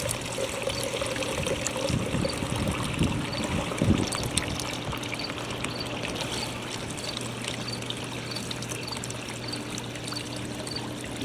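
Water pours steadily into a backyard swimming pool being refilled before closing, a continuous close splashing and trickling rush with no pauses throughout.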